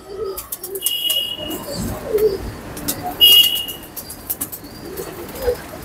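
Pigeons in a pigeon house give soft, close coos alongside a few sharp chirps and brief wing flutters, with no talking.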